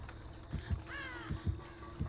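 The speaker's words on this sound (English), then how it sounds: "That crow couldn't have been any fucking louder" A single drawn-out crow caw rings out in the video game Dead by Daylight, fairly faint over a low ambient hum and soft, regular heartbeat-like thumps.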